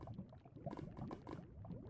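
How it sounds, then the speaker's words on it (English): Bubbling, gurgling lava dripping from a cave ceiling in Minecraft, a soft continuous liquid burble with irregular pops, fairly quiet and steady throughout with no speech. "I'm hearing a lot of lava though"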